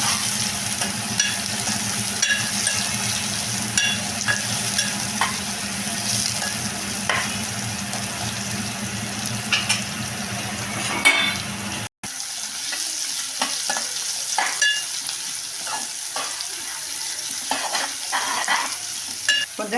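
Cumin, mustard seeds and onion frying in hot oil for a dry fish curry, a loud continuous sizzle with stirring scrapes, briefly interrupted then continuing more sparsely.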